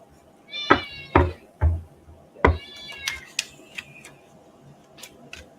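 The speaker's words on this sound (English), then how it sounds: "You hear the kitty?" A pet cat meows several times in a home, close and fairly loud, with quieter room noise between the calls and a few faint ticks or knocks.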